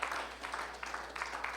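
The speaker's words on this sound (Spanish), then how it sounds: "Denle una ofrenda de palmas al Señor." A church congregation claps together in a brief burst of applause, dense and steady at moderate volume.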